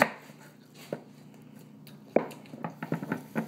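A knife chops onion on a board in sparse, quiet single cuts at first, then a quicker run of close, crisp strikes toward the end.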